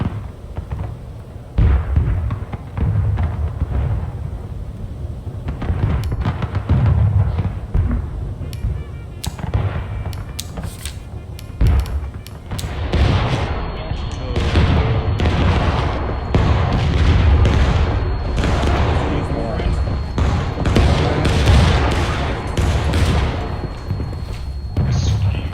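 Musket and artillery fire in the video game War of Rights: dense, continuous crackling volleys punctuated by heavier booms, rising in intensity and heard mostly without talk.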